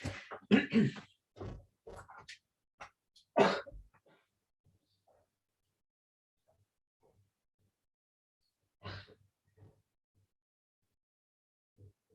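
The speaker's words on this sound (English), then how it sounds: "let me just get a glass of water because I'm coughing" Several harsh coughs and throat-clearing bursts close to the mic, clustered at the start, then mostly quiet with a couple of faint later coughs.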